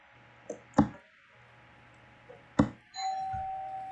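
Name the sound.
doorbell ringing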